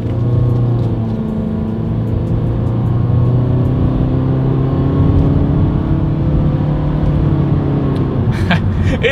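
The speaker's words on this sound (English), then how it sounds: "Let's see how quickly we can get the new 2020 Honda Fit gear up to speed." A 2020 Honda Fit accelerates hard, its engine droning steadily and loudly from inside the cabin with a slowly rising pitch, ending with a faint click.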